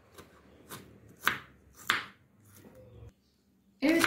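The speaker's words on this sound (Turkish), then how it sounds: "5 diş sarımsağım var. Onu da küçük küçük doğruyorum." Five garlic cloves being chopped small with a knife on a board, a series of sharp, close, distinct knocks spaced unevenly with quiet gaps between, no talking.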